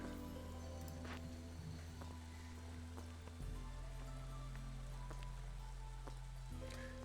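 Steady drizzling rain pattering in the video game Against the Storm, a soft, continuous hiss with scattered drops over a low ambient hum, quiet throughout with no talk.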